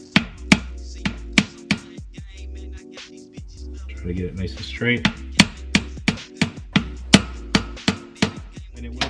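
Steady, sharp metallic taps from a bushing driver pressing an input shaft bearing into a CD009 transmission for a 1JZ/2JZ IS300 swap, about two blows per second, close and loud, with brief talk partway through.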